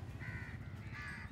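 A crow caws twice in clear succession, each harsh call drawn out and moderately distant over a steady low background rumble.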